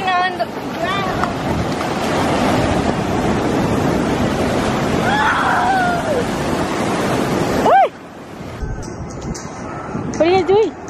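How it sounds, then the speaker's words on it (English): Continuous rushing water and wind noise surround a boat as it splashes along, with voices calling out over the wash before it suddenly drops away. "My boat was splashing on the ground."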